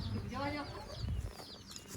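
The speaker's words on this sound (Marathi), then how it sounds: "कोंबड्या बिंबऱ्या पण बघा कशा गावठी कोंबड्या" Nearby village chickens cluck and call in short bursts over faint outdoor background noise.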